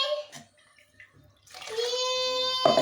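Water is poured into a simmering curry in a steady, close, splashing stream that starts after a brief quiet stretch with a faint voice.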